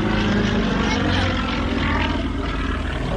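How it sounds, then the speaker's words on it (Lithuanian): A propeller aerobatic airplane diving during an air show performance, its engine a steady loud drone throughout, with crowd voices faintly underneath. "Žiūrėkit, kaip lėktuvas krenta."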